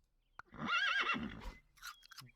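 A horse neighs as it is purchased in the Super Auto Pets video game: a short, bright, wavering whinny sound effect, loud and close, followed by brief quieter game clicks.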